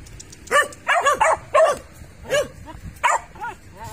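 Small young dogs of one breed bark in short repeated bursts with some whimpering yips, close by and fairly loud, with brief pauses between barks.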